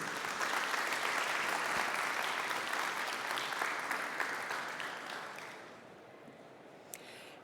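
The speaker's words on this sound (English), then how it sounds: "Warm round of applause for her" A conference audience claps steadily for several seconds, the applause gradually thinning and fading out toward the end.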